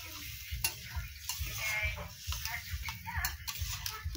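Water poured into a pan of chicken curry sets off a steady sizzle and bubbling, with light stirring and scraping clicks against the pan repeating throughout, close by.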